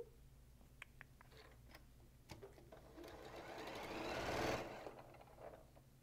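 A sewing machine whirs up with a rising mechanical hum, preceded by scattered clicks and taps, then slows and fades; quiet and close.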